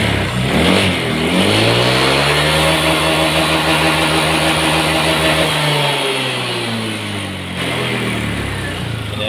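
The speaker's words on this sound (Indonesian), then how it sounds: "Bisa teman-teman dengarkan suara bantingan pistonnya ya. Ini kita gas besar" A Honda Vario 150 scooter with a rough, knocking piston and a smoking engine is revved hard, rising to a loud drone, holding, then dropping back before revving again.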